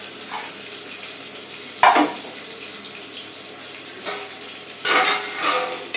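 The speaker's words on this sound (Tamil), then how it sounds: "இதெல்லாம் இதெல்லாம் வதக்கணும்" Onion, tomato and curry leaves sautéing in a pan, a low steady sizzle broken by a few louder scraping stirs, close and moderately loud.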